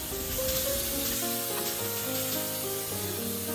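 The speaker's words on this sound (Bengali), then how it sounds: "আমি আদা রসুন পেস্ট পরিমাণ মতন সব কিছু একসাথে ভালো করে একটু নেড়ে চেড়ে নিচ্ছি" Chili, coriander powder and ginger garlic paste being stirred together in a pan for a Bengali shrimp and malabar spinach dish, giving a steady close sizzle with soft scraping, over a continuous tonal background.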